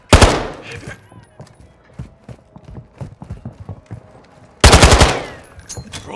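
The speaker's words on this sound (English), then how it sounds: "I'm taking enemy fire!" Rapid bursts of machine-gun fire in a Call of Duty: Modern Warfare II multiplayer match, with a loud, dense volley at the start and another near the end and scattered lighter shots and clatter between them.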